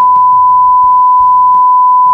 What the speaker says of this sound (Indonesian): Ini bakal di beep, kasih tahu aja siapa.